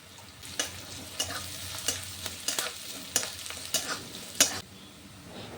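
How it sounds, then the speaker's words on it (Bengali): Grated coconut fries with spices and onion in a pan, a soft steady sizzle under repeated quick scraping stirs from a spoon, close and fairly quiet. "নারকেল কুচি দিয়ে আর একটু ভেজে নিচ্ছি।"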